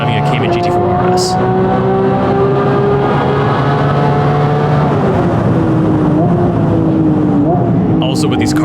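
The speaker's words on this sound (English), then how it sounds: "the engine note is intoxicating, and I'm so grateful that we finally have a GT3 engine, a proper engine in the Cayman chassis" Porsche Cayman GT4 RS with a GT3 engine and carbon intakes, revving hard on a race track: a loud, sustained rising engine howl with audible gear shifts, and a voice talks briefly over it.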